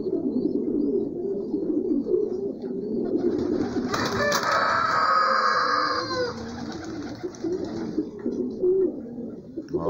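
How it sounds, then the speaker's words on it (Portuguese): Homing pigeons circle in a flock over a house, giving low soft cooing and bird calls against steady background noise, with a brief burst of brighter wing and call sounds midway. "É pombo"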